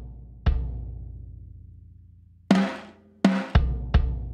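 Synth kick drum triggered in Ableton Live around C1, five deep booming hits with decaying tails, one alone and then four more in a quicker uneven cluster, clean with no talk.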